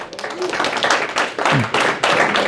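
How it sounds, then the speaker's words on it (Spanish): A church congregation bursts into applause during a sermon, uneven waves of clapping that surge and dip with a few voices rising briefly through the noise. "dale un aplauso al Rey de Reyes"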